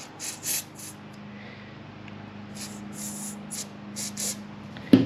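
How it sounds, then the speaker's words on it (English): Carburetor cleaner sprayed through the pilot jet of a Ski-Doo MXZ snowmobile carburetor: several short, sharp aerosol hisses in bursts, close by, with a brief clack at the end. "We'll spray some through it either way."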